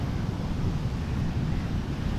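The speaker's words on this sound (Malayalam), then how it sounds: "നല്ല ഹൈറ്റിൽ അടിച്ച് കയറി വരുന്നുണ്ട് തിരമാലകൾ" High sea waves surge onto the shore during a heavy coastal sea surge, a continuous deep roar of churning water mixed with strong wind noise, close and steady with no voices.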